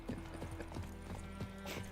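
Horse hooves clip-clop on the ground in The Witcher 3 video game. The faint, rhythmic steps sit within a low game soundtrack.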